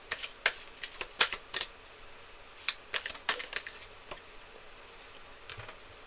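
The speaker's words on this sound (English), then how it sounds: "Now let's pull some clarifying cards." Tarot cards being shuffled and drawn from a deck, with a series of crisp riffling flicks and soft card slaps in quick irregular bursts, close and fairly quiet, with no talking.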